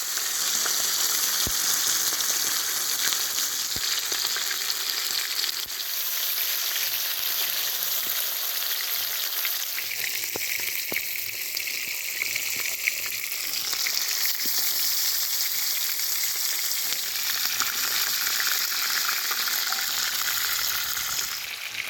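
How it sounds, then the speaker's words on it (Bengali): Chicken pieces for biryani fry in hot oil at an outdoor village picnic, a steady, loud broadband sizzle running the whole time with occasional stirring scrapes and no voices. "এইটাতে প্রথম যে চিকেন বিরিয়ানির মধ্যে যাবে এটাকে ফ্রাই করে নিতে হয়"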